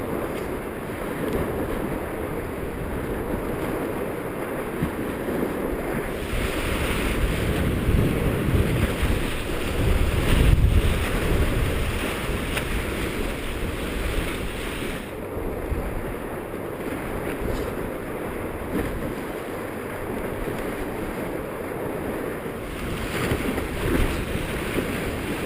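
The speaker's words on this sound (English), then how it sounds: "It's windy." Strong wind roaring steadily across a lake shoreline during shore fishing for striper in 40 mph gusts, a loud constant rush buffeting the microphone, with no voices.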